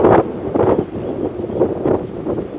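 Strong wind in Iceland buffets the microphone in heavy, low rumbling bursts, pulsing roughly every half second with no other clear sounds.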